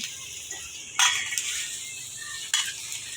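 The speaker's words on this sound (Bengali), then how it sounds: "পুঁইয়ের শাক দেখুন দিয়ে দিচ্ছে" Malabar spinach leaves hitting hot oil in a wok, giving a steady close sizzle with two sharper bursts as the greens go in, plus faint clinks of a utensil, with no talking.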